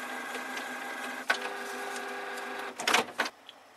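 A scanner warming up whirs and hums with steady motor tones, then gives a couple of louder mechanical clunks and rattles near the end, faint and without talk.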